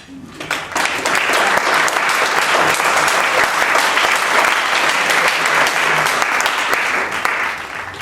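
Sustained, loud audience applause fills a poetry reading, a dense wash of many hands clapping steadily from start to finish without a break.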